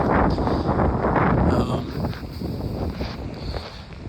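Strong gusts of wind buffet the microphone with loud, rumbling blasts that ease slightly after a couple of seconds, on a seaside strand at night.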